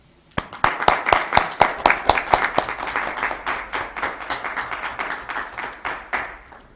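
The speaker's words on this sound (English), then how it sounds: "I would just like you to take a moment and join me in a round of applause for Ryan and his team right now, please." A crowd in a county commission chamber breaks into applause. Loud individual claps open the round, which settles into a dense, even patter before tapering off near the end.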